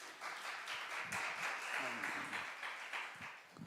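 A church youth congregation applauds: steady, soft clapping carries on throughout, fairly distant, with a voice faintly audible underneath.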